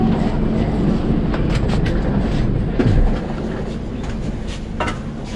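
The Mumbai Bandra–Surat InterCity Express at a station, a loud, close, continuous low rumble with faint clicking and a short squeal partway through, then the rumble eases slightly.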